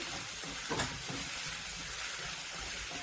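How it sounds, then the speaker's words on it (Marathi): Onion with salt frying in a pan for a Maharashtrian shev bhaji, a steady close hissing sizzle with a brief stir-like swish, no talk. "आपण यामध्ये थोडं मीठ घालून घेऊया लागलं तर वरून घालूया घेऊयात आपण कांदा छान भाजून घेऊया"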